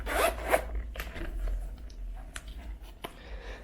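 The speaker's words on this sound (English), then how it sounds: "This has one large zipper" A large zipper with a distressed wavy metal pull on a Louis Vuitton leather soft trunk, drawn in a few quick, close rasping strokes, the loudest pulls at the start, followed by softer handling rustles.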